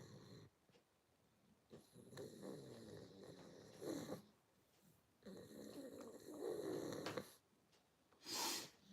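A person breathes heavily and noisily, close and soft, the long rasping snore-like inhales and exhales repeating in slow cycles separated by brief quiet gaps.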